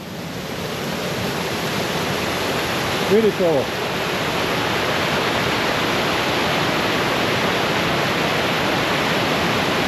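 Spring water flows from a hillside in a small stream as a continuous broad rushing hiss, fairly close, with a short spoken remark partway through.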